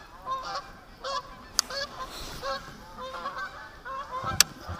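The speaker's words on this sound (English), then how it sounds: "I got geese coming over my head." Geese honking overhead near a glacial lake in South Dakota, a scattered series of faint, moderately distant honks in an irregular rhythm over quiet outdoor ambience.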